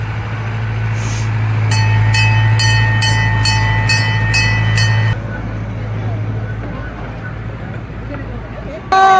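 A small park ride train runs among Christmas light displays, its loud rumbling hum with a rhythmic series of bright clanking chimes, then the chimes stop and the rumble continues, with people talking in the background.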